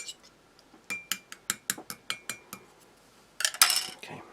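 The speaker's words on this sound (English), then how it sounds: "I'll bring in a Russian spoon just to give that a little stir" A Russian spoon clinks against a cup of fruit tea, giving about ten quick, evenly spaced metallic taps, then a louder, busier flurry of clinks near the end. The sound is close and there is no talking.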